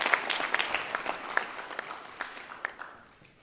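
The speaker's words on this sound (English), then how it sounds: "can I ask all graduates to give yourselves a round of applause?" Graduates at a winter graduation ceremony clap for themselves, a moderate, even burst of applause across the hall that tapers off gradually.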